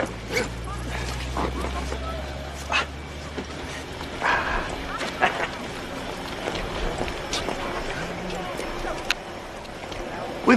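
A dog barks and yips during a wedding ceremony scene in a Hallmark Christmas movie, short sharp calls scattered among people talking nearby.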